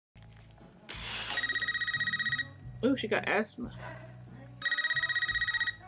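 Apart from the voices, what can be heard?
house phone ringing in the movie Scream 2022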